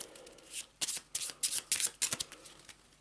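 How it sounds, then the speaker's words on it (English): A deck of cards for the Eldritch Horror board game is shuffled close by in a series of quick riffles and taps, crisp and fairly soft, with no voices. "Shuffle the deck."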